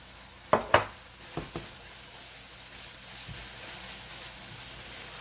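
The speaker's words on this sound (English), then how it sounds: "I'm simply going to allow this to saute" Porchetta ingredients sautéing in a pan: faint steady sizzle with a few sharp clinks and taps of a utensil against the pan early on, then a quiet hiss, no voices.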